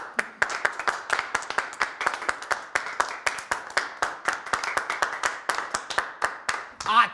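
A group claps for a retiree at a family gathering in a comedy series, a steady run of sharp, fairly close handclaps lasting several seconds with no talk over it.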